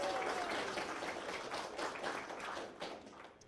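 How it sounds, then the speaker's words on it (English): Audience applause for a voice actor at the VPE 2023 welcoming ceremonies in Vancouver, a steady wash of clapping from a crowd that holds throughout, with a faint tone near the start. "Can we give him a round of applause, please?"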